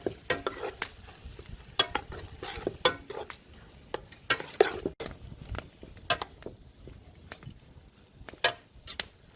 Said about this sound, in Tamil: இதையும் ஒருக்க வடிவாக கிளறி விடுவோம்.